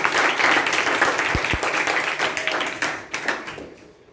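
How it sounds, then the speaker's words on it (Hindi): Loud clapping from seminar participants, a dense burst of hands that gradually thins and fades toward the end, with a couple of low thumps near the middle. "सबसे पहले सारे पार्टिसिपेंट्स के लिए एक जोरदार ताली"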